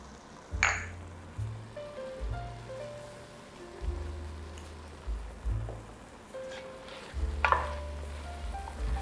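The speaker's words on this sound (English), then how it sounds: "you're just gonna fry this for about 5 to 7 minutes until it's fully browned" Food browning in a pan sizzles quietly beneath repeated metallic clinks and scrapes of a utensil stirring, in irregular bursts, with low hum in the background.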